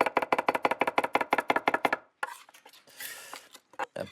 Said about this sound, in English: You crush it first, and then you can rock it.